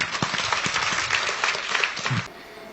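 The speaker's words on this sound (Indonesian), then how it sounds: "Anda boleh tepuk tangan." An audience bursts into applause during a church talk on Christology. Dense clapping fills most of the moment, then cuts off abruptly near the end.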